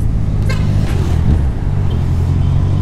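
Road traffic rumbles past in San Pablo, a close, continuous low engine drone from cars and heavier vehicles with a brief hiss partway through, steady and loud.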